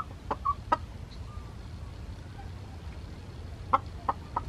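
A hen sitting on a nest of seven eggs on a Philippine farm gives a few short, soft clucks, scattered and fairly close against a quiet outdoor background.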